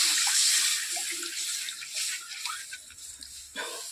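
Spice paste simmering with coconut milk in a pan, a close, steady watery bubbling and sizzling hiss with soft pops throughout, no talking.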